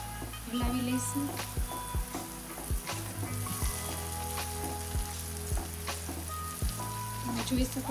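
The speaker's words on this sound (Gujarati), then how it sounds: "આપણે થોડા થોડા શક્કરપારા નાખી અને તેને તળી લઈશું." Pieces of sakkarpara sweet dough sizzle and bubble in hot oil in a frying pan, a continuous crackling fry with a few scraping stirs and clinks of a spoon at intervals.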